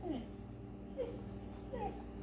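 A dog whimpering in the background of a kitchen, three short high-pitched whines spread over a couple of seconds, faint and somewhat distant over a low steady hum.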